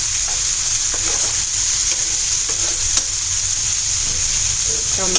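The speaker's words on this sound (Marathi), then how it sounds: "टोमॅटो छान शिजेपर्यंत आपल्याला मिडियम टू हाय गॅसवरतीच परतत राहायचं आहे" Tomatoes sautéed and stirred in a pan over medium-high gas for a fish-head kheema masala, a steady close sizzle of frying with occasional stirring scrapes and taps throughout, no voices.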